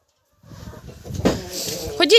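Short, sharp sparrow chirps in a backyard poultry area where young roosters are kept, rising from a quiet start to a louder cluster of bird calls at the end, with some clucking-like sounds mixed in.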